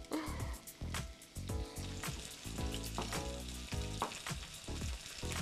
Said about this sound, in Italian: Riuniamo le fettine di finocchio nella padella.